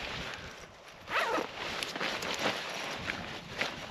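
A zipper on a paragliding harness is pulled open in a few quick rasping strokes, close and fairly quiet.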